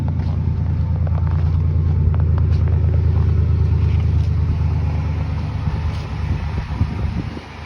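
Chevy engine running after a cold start, a loud close rumbling idle with a steady low throb and faint whine on top, fairly constant before easing slightly near the end.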